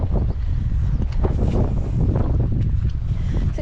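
Wind blows across Grange Fell in the Lake District, a steady loud roar and buffeting on the microphone that lasts a few seconds, with no one speaking.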